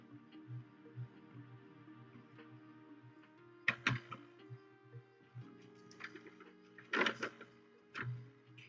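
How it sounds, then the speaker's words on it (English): Cricut cutting machine running with soft rhythmic motor pulses and mechanical ticks, punctuated by a few sharper clicks and whirs, quiet and close with no talking. "The Cricut is at it again."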